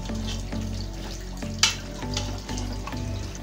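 A curd mixture is stirred in a pressure cooker during the making of achari gosht, giving a soft close-up sizzle with scraping stirs, a sharp clink near the middle, and no talk.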